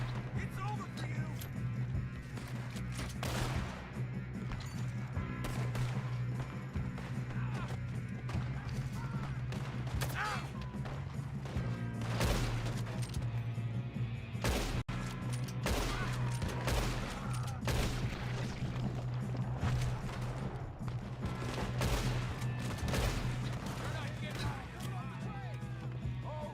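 Rapid gunfire in a Red Dead Redemption 2 shootout, dense volleys of sharp shots and bursts crackling continuously over a low steady hum, loud and sustained for the whole stretch.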